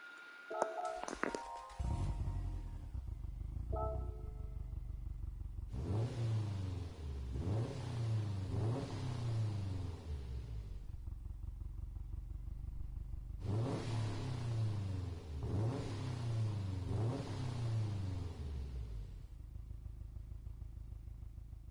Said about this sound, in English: Subaru, that's a nice sounding car.